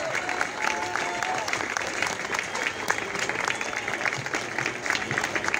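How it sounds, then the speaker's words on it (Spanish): An audience at an open economics class claps steadily throughout, a continuous wash of applause with faint crowd murmur underneath. "Por eso les pido un aplauso"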